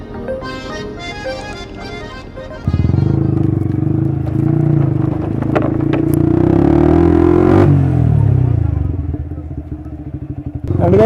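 A motorcycle on the Berhampore bypass road idles with a lumpy thumping, then revs up into a loud sustained drone that rises in pitch and falls back, close and dominant, with wind rumble.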